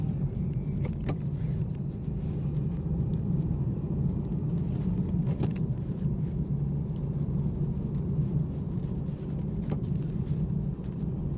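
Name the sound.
BMW B58 engine tone while driving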